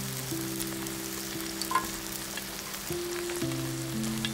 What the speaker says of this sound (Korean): 팬에 기름을 두르고 다진 파로 향을 내다가 가지를 구워주세요.